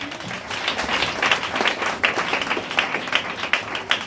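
A church congregation at a Pentecost service claps and cheers, a loud, dense wave of applause with scattered louder claps and shouts rising throughout.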